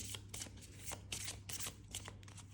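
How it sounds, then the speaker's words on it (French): A deck of tarot cards being shuffled by hand, steady repeated riffling and sliding bursts at close range, fairly quiet, with no voices. "Voilà, donc vous mélangez votre jeu."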